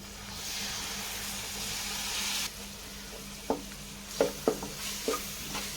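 Curd being stirred into sizzling chicken biryani masala in a pan, a steady frying hiss that drops partway through, followed by several sharp scraping clicks of the spoon against the vessel.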